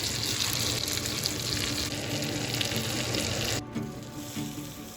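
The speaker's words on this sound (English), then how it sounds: "here's a little obligatory butter bubbling ASMR" Butter bubbles and sizzles steadily in a hot pan while a reverse-seared steak is seared, a close, dense crackling hiss that runs loud and even before cutting down sharply near the end.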